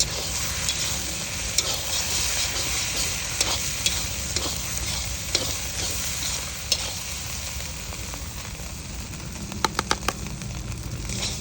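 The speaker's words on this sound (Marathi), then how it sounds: "पूर्ण चटणीला तेल सोडूस तर आपण फ्राय करून घेऊ" Red Kashmiri chili chutney fries in oil with a continuous close sizzle, steady crackling and occasional sharp ticks of stirring, with no voices.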